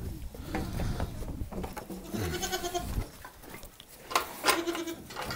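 Farm goats bleat several times while being herded home, with a wavering call in the middle and more cries near the end, close and fairly loud amid rustling farmyard sounds.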